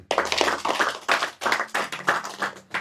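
Rhythmic clapping from a small audience at a religious lecture, several bursts of hand claps in quick succession, fairly close and moderately loud, with no talk over it.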